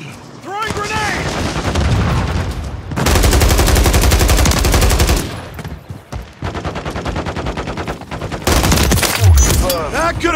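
Call of Duty video game combat fills the scene with dense, loud bursts of automatic gunfire and heavy shots, coming in waves with brief lulls, while voices shout over the shooting.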